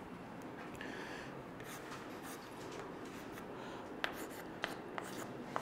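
Writing on a board in a chemistry lesson: faint continuous scratching and rubbing strokes over a steady room hiss, ending in a few light taps.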